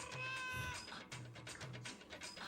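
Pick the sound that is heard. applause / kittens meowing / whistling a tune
kittens meowing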